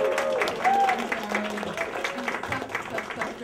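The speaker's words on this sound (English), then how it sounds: "can we have a little round of applause for Strut and Guru?" An audience at a Strut queer ancestors exhibition event gives a round of applause, a soft, steady patter of clapping heard beneath an ongoing voice.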